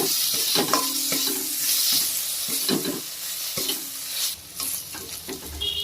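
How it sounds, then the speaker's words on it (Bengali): Ground cumin, coriander, chilli and turmeric sautéing in a pan while being cooked down for a paneer dish, a close sizzle with frequent spoon scrapes and knocks against the pan, no voices. "ভালো করে মশলাটা কষিয়ে নেব।"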